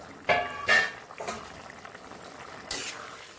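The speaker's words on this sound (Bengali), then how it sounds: "ঝোলটা ফুটে গেছে, এবার মাছটা দিয়ে দেবো। মাছটা একটু জাল হোক" Shol fish being added to boiling curry gravy in a pan, with a few sharp splashing sizzles followed by a softer, steady bubbling of the liquid.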